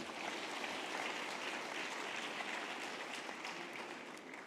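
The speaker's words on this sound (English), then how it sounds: "Can we also give him a big round of applause?" An audience at a university autumn graduation ceremony gives a big round of applause, a dense and steady wash of many hands clapping. It sounds somewhat distant and holds evenly throughout.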